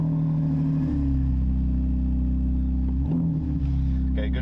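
A car engine hums steadily from inside the cabin, with a low droning tone that holds throughout and shifts slightly in pitch near the end.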